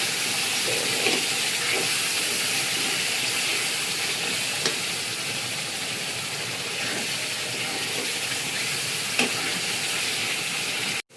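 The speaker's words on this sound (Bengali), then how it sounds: "এখন আমি একটু নেড়ে দিয়ে এর মধ্যে মাংসগুলো ছেড়ে দেবো, ভেজে রাখা মাংসগুলো।" Pre-fried chicken pieces crackle and sizzle steadily in hot oil in a pan, a dense, continuous hiss with occasional small pops, close and even throughout until it cuts off at the end.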